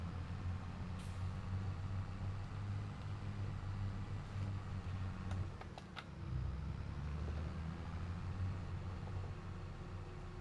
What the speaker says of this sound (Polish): tutaj jedzie ten samochód, to go przepuścimy